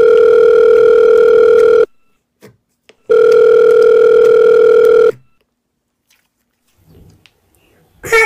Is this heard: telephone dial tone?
yes